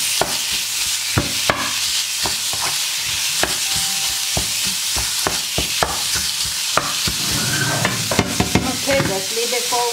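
Minced beef stir-frying in a pan for a zucchini dish, giving a steady loud sizzle with frequent sharp spatula scrapes and clicks against the metal throughout.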